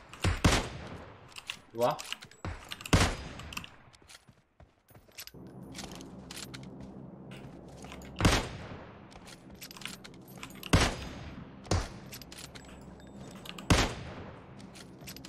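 Gunfire in the mobile battle royale PUBG Mobile: scattered sharp shots, loud and isolated, spread across several seconds with quieter clicks and rattles between them, while a player talks now and then.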